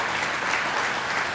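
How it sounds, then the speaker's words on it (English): Crowd at a mayor's reception and chamber volunteer awards ceremony, held under a roof at Newport Dunes, applauds the staff with dense, steady clapping throughout the short moment. "How about a big round of applause for them?"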